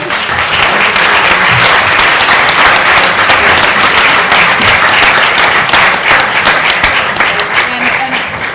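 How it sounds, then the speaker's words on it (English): A large audience at an evening public meeting on the Grenfell Tower fire gives the panel of speakers another round of applause, loud, dense and sustained clapping throughout. "Please give them another round of applause."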